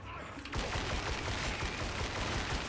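Rapid gunfire in Warhammer: Darktide, a dense continuous burst of shots that kicks in abruptly and hammers on loudly to the end.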